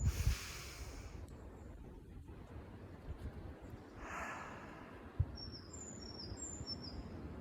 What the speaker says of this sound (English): You can hear the birds again.